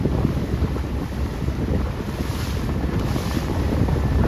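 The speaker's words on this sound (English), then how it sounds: "In this much wind, you guys see white caps?" Strong wind roars across the water during a sailing regatta in small racing dinghies with whitecaps around, a constant loud gusty rush over the microphone with sloshing water underneath.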